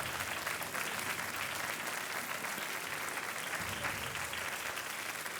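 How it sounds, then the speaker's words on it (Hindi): Sustained studio audience applause on an Indian quiz show, loud and steady throughout with no pauses, dense clapping filling the whole stretch without any voices over it. "तालियां बजती रहें देवी और सज्जनों।"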